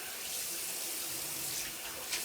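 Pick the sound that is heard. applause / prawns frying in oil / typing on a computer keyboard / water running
water running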